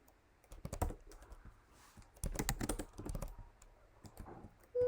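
Keystrokes on a computer keyboard while C code is being edited, coming in quick bursts of clicks separated by short pauses, fairly close and with no talking.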